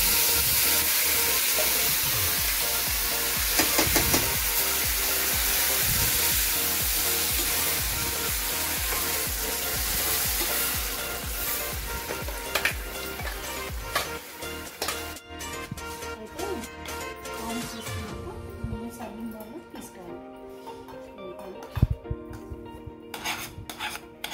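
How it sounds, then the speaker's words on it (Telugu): Mustard seeds tempered in hot oil over Andhra-style eggplant and coriander chutney give a loud, broad sizzling hiss that gradually dies away to quiet scraping and clinks, with faint talk. "ఆవాలతో తాలింపు వేసుకోవాలి."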